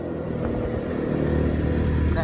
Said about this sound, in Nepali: कसम मेरो बाइक यस्तो भ्यार साउन्ड कहिले आउँदैन थियो तर आज चाहिँ आइरहेको छ